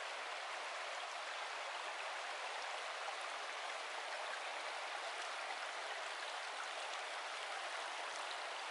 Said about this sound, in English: Now that's a beautiful little creek, isn't it?